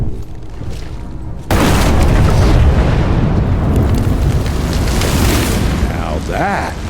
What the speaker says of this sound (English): Now that is how you shape an explosion.